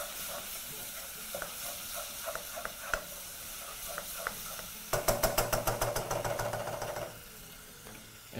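A pinch of water hits a hot pot of beef biryani, bursting into loud crackling sizzle with rapid spitting pops that fade back to a steady low fry, alongside scattered stirring clicks.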